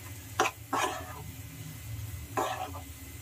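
Peanuts and chana dal are stirred in a pan, giving a few close, gritty scraping bursts with dry rattling between brief pauses and a faint sizzle underneath, with no voices.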